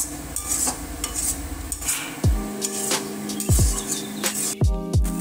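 Fish mash of laitya (Bombay duck) seasoned with garam masala being stirred in a pan: repeated scraping and clinking of a utensil against the metal over a soft sizzle, with a few sharper knocks, close and fairly loud.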